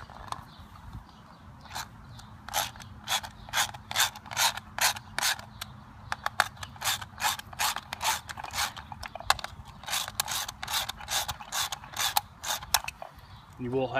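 Rapid clicking of a ratchet driving a 10mm socket to tighten the wheel bolts on a John Deere JX75 lawn mower, coming in quick bursts with short pauses, close and fairly quiet.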